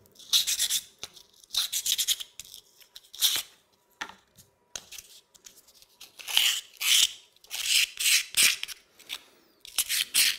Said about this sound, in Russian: Предварительно зачистим наждачной бумагой.